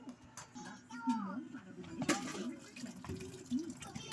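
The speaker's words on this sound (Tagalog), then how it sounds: "Ako po ay maghugas muna po ng plato sa kinainan po namin." Dishes being washed by hand under a running tap after a family meal: a steady trickle of water with small clinks and splashes, fairly close, with voices murmuring in the background.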